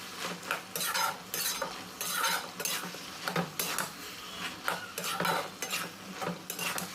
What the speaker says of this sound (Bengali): এবার এটাকে নাড়াচাড়া করে মিক্স করে নিতে হবে সবজির সঙ্গে